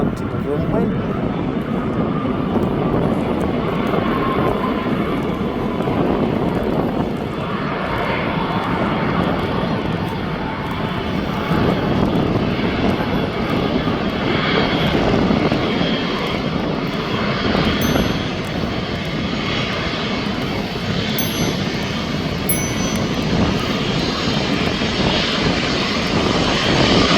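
A fixed-wing aircraft taxis onto the runway at Birmingham International Airport, its steady engine drone loud and continuous for the whole stretch with broadband rumble. Faint talk sits under the noise.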